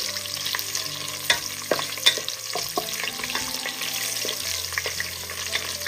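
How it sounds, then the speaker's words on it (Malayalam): Cashews and raisins fry in hot ghee and oil for chicken biryani, giving a steady close sizzle with scattered clicks and scrapes of stirring throughout, no voices. "നെയ്യും എണ്ണയും ഒന്ന് ചൂടായതിനു ശേഷം ഇതിലേക്ക് ഒരു 2 ടേബിൾ സ്പൂൺ കശുവണ്ടിയും ഒരു 2 ടേബിൾ സ്പൂൺ ഉണക്കമുന്തിരിയും കൂടി ഇട്ട് കൊടുക്കാം"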